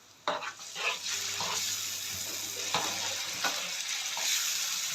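Tomatoes stirred in a hot frying pan on high heat give a continuous close sizzle and frying hiss, with scraping stir strokes and small clatters throughout.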